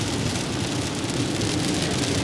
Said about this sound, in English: because it's been raining the entire time.